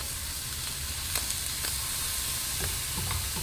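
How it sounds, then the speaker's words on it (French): Scallops sear in butter in a very hot pan, making a constant dense sizzle with light crackles and soft pops, close and steady without voices. "Dans la même poêle qui est bien chaude avec le reste du beurre, je vais cuire donc des Saint-Jacques."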